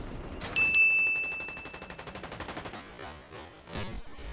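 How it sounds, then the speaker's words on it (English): Gunfire rings out in a Fortnite match where a sniper rifle is used, with a bright ping and sharp report followed by a rapid string of repeated shots. It is moderately loud with no voices. "I'm going to land, get out my sniper, and tag him coming in."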